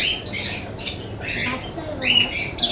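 Pet bird squawking in short, harsh bursts repeated several times close by, with a voice murmuring faintly underneath.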